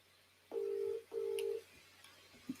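Two steady telephone keypad dialing tones, each about half a second long, sound close and clear one after another during a community video call, followed by a faint click.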